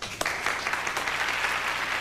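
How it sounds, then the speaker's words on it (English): An audience at a Fort Greene community speech claps, a brief, even patter of applause with a few sharper claps near the start, heard at moderate distance without voices. "They wouldn't be applauding if they knew the truth."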